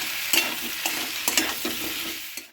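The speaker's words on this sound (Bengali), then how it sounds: "আমি আবারও সমস্তটা ভালো করে কষিয়ে নিচ্ছি" Spices stir-fried in a pan sizzle steadily while a utensil scrapes through them in irregular strokes, close and fairly loud, with no voices.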